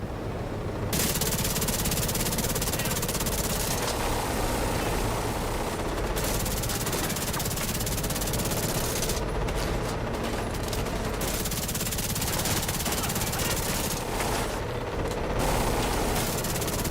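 Helicopter fight in a shooter video game, with dense, continuous bursts of automatic gunfire and explosive clatter running loudly throughout over a steady mechanical roar.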